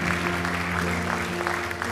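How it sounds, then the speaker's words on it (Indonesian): A church congregation applauding during a sermon, steady crowd clapping under a sustained organ or keyboard chord, moderately loud and continuous. "berikan tepuk tangan buat Tuhan kita"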